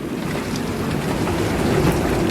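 Gale-force wind roars steadily around a sailboat riding at anchor, a dense, loud rushing noise with rain-like hiss and low rumbling, continuous and without talk.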